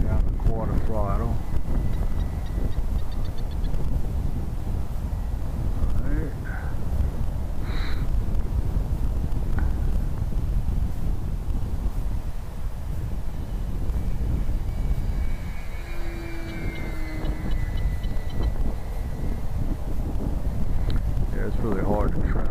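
Strong, gusty wind of about 25 mph sweeps across an RC flying field, roaring steadily into the microphone for the whole stretch, with a small model airplane engine droning faintly in the distance.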